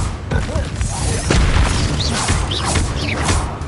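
A Depulso force spell from Hogwarts Legacy lands as a heavy booming thump amid a loud, chaotic duel, with crashing impacts and magical swishes around it and no talking.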